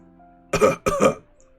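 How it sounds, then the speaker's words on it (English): A woman coughs twice in quick succession, two loud, harsh, close bursts separated by a brief pause, with near silence before and after. "Cece suddenly started coughing uncontrollably."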